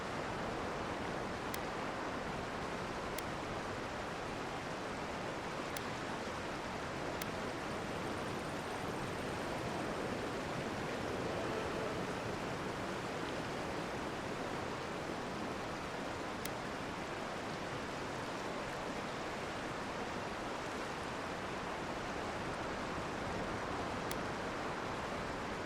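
A steady roar of falling water from a waterfall beside a cave in Avowed, a dense, even rush that holds unchanged and fairly loud throughout with no voices.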